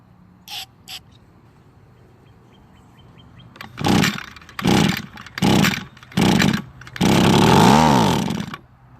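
A string trimmer's small two-stroke engine, fired on starting fluid after long storage, catches in five loud separate bursts of revving that each die out, the last one lasting longest.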